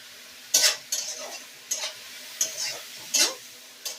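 Tomato and green chillies fry in a pan on a gas flame, with a steady sizzle broken by six sharp, close scrapes of a spoon stirring them.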